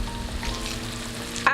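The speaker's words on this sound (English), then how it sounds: "now I'm going to add the wine and then let it reduce for another 3 minutes before adding the rest of the ingredients" Wine goes into a pan of sizzling onions and garlic for spaghetti Bolognese, a steady close frying hiss with a brief louder splash at the end.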